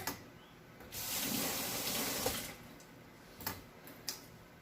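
Green onions rinsed under a running kitchen tap, a soft steady rush of water lasting a couple of seconds, followed by a few faint clicks and taps at close range.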